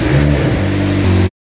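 A crash-damaged McLaren 720S, freshly rebuilt, runs with a loud, close engine note that holds a steady idle and then swells in a rev near the end before cutting off abruptly.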